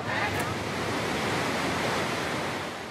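The Mekong River rushes in full seasonal flood in Laos near the Cambodian border, a dense, steady roar of hurtling water that stays loud and unbroken throughout, with a wind-like hiss over it.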